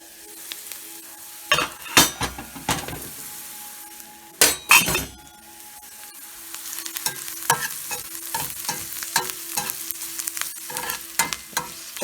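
Onions frying in a pan for breakfast alongside prepped sausage and eggs, a soft steady sizzle broken by several loud bursts of stirring and clinking utensils against the pan.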